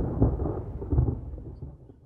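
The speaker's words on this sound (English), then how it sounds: "now, when we're in the map, we have distant thunder" Distant thunder from the rain system in the video game Ground Branch, a low rolling rumble with two soft swells over steady rain before fading.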